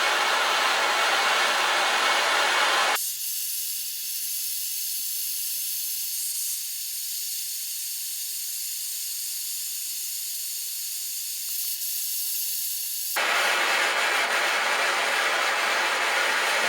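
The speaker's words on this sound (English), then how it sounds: "just using a standard butane propane mix with a standard, it's like a plumber's torch" A butane-propane plumber's torch heats a classic Mini SPi inlet manifold, giving a steady, loud roaring hiss that drops to a quieter background for about ten seconds before the full roar returns.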